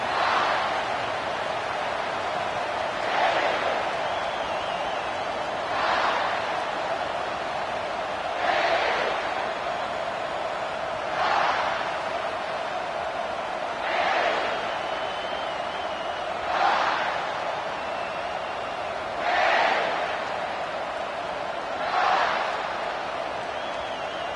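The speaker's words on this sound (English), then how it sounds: "This crowd trying to show them what it's going to be like all day in this house." A football stadium crowd cheers at a college game between the Aggies and South Carolina, a steady roar that swells in regular waves about every few seconds, heard at a distance without any talking over it.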